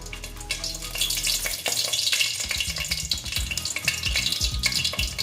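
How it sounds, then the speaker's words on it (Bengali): Two dry red chilies dropped into hot oil for an aloo chholar dal, a sharp close crackle and sizzle with stirring clatter, rising after a quieter start and continuing busily. "তেলটা মোটামুটি গরম হয়ে গেছে তারপরে আমি দিয়ে দিচ্ছি দেখো দুটো শুকনো লঙ্কা"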